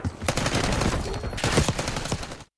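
Rapid automatic gunfire from Call of Duty Black Ops 6, loud dense bursts of shots rattling in quick succession with a short pause in the middle, ending abruptly.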